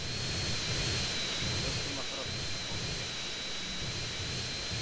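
In GTA San Andreas, an airplane engine drones steadily with a loud, continuous roar and a sustained high whine, while a voice talks over it.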